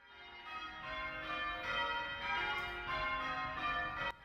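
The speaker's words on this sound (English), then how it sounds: "The church's peals fill the town with music" Many church bells ring together in a steady, continuous peal with rich overlapping tones, fairly distant and unbroken throughout.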